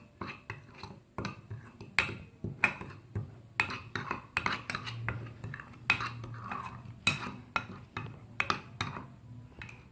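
Chicken marinade with black pepper being mixed in a bowl, giving repeated clinks and scrapes of a utensil against the dish in an uneven rhythm, close and fairly loud, with no talking.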